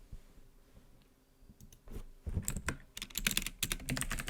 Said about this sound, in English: I'm typing too fast and my mic is in the way.